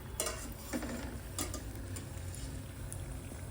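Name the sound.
kadhi simmering on low gas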